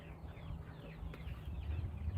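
Farm chickens clucking and murmuring softly in a low, steady chatter, fairly distant and faint against a rumbling background, with no voices over it.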